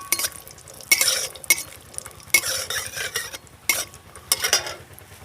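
Cashews and almonds fry lightly in ghee, stirred in bursts of loud scraping and clattering of a metal spoon against the pan over a soft continuous sizzle.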